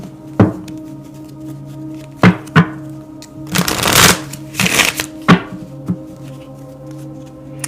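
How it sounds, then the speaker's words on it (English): Tarot cards being shuffled by hand: sharp, close taps and knocks as the deck is squared, broken by two longer riffling rushes in the middle, with a low steady hum underneath. "Let's pull some tarot cards here."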